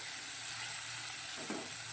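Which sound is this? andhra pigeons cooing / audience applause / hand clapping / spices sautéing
spices sautéing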